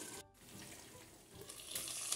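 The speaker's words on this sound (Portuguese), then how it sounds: "Colocar mais um pouquinho de água, que aqui tem que ficar cozido e assado." Water poured into a frying pan while chicken coxinha cooks, a steady splashing, running-water hiss with a brief gap near the start, close and fairly quiet, with no talking.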